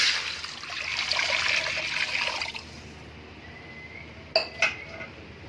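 Water poured into a cooking pot already holding ghee before rice goes in, a steady close splashing pour for about two and a half seconds, then a few sharp metallic clinks of the pot.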